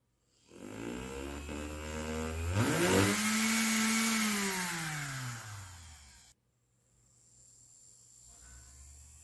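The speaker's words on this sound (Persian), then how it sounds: "خب حالا میخوام از یک موتور 12 ولت استفاده کنم." A small 12-volt DC motor spins the rotating head of a homemade laser level. Its whine climbs steadily in pitch and then falls away, leaving a quieter hum afterwards.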